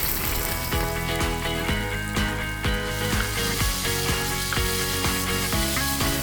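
Chili paste and ginger stir-fried in hot oil in a pan, a steady loud sizzle with repeated scraping and stirring clatters, no talking.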